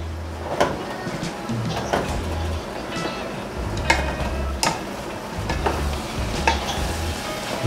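Ingredients sauté for dinuguan, a Filipino pork-blood stew with pork innards, giving a continuous loud sizzle broken by sharp clatters and scrapes of the spatula against the pan at irregular intervals.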